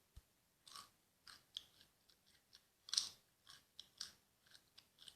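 Close, crisp crunching and chewing of edible insects such as mealworms and beetle larvae, a steady series of sharp bites and crackles at a quiet level with no talking.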